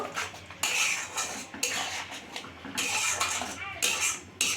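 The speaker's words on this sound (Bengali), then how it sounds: "দিয়ে এটাকে ভালো করে মিশিয়ে নেব" A metal spoon stirs dry chili powder into a prawn curry masala in a pot, bursts of scraping and clinking against the pan in uneven strokes with short pauses, close and fairly loud.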